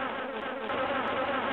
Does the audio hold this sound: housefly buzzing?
yes